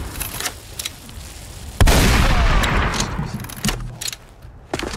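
A rifle fires in a modded Skyrim survival game: one loud, sharp blast that rings on with a long booming tail, surrounded by quieter game ambience and a few softer thuds.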